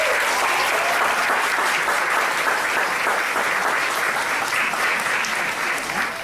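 Steady applause from a recital audience fills the room, dense and even throughout, with faint voices mixed into the clapping.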